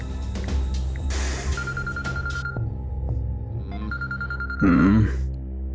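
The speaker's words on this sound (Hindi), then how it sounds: "अरे कौन फोन कर दिया यार?" A phone rings with a repeating electronic tone amid other sounds, sounding twice with a short gap between.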